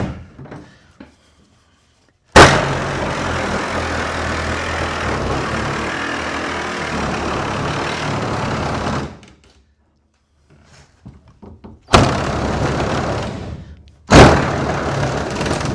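A power saw fitted with a short blade cuts through sheet metal on a 1955 Chevy gasser's wheel well. It runs loud and steady for about seven seconds, and two shorter bursts follow after pauses.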